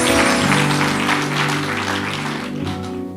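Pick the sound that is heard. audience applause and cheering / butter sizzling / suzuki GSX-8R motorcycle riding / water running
audience applause and cheering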